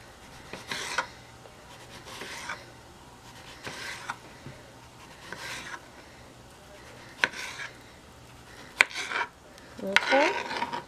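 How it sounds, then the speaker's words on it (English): Knife cutting ripe plantains into small slices on a board, a series of soft scraping cuts repeating roughly every second or two, close and fairly quiet, with a few sharper taps toward the end. "make nice little slices of plantanos"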